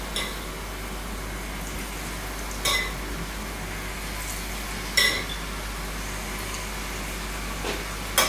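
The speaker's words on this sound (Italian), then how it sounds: "Andiamo a friggere le palline nel, nello strutto, portato a temperatura di frittura" Small dough balls frying in hot lard for an ancient Roman recipe give a steady, even sizzle, broken by a few sharp clinks of utensils against a pan.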